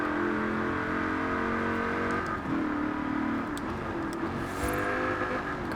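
Supercharged HSV GTSR engine in Forza Horizon 4, a steady loud drone that holds its revs, dips briefly midway, then swells again, with no talking over it.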